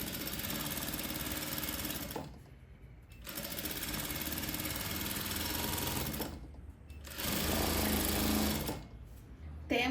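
A sewing machine stitches the hem of a dress in long, steady motor-driven runs of rapid needle chatter, close and loud, with short pauses between bursts.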